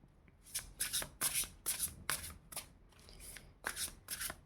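Tarot cards are shuffled in a rapid series of crisp riffling bursts, close and fairly quiet, with short pauses between handfuls.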